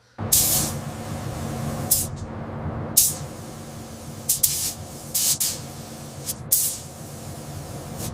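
A spray gun laying a final coat of paint on a van gives repeated loud hissing bursts, each lasting under a second, against a steady low hum of equipment running in the background.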